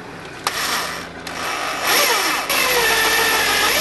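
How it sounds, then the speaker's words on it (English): An 8mm bit drills through a metal bracket for a pedal-powered washing machine conversion, a whining motor that starts, pauses and then runs steadily with rising pitch, fairly close. "And now I'll go through the 8mm drill."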